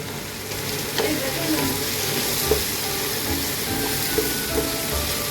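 Chopped tomatoes frying with red stalk leafy greens in a pan, a steady close sizzle with occasional soft stirring clinks and scrapes throughout.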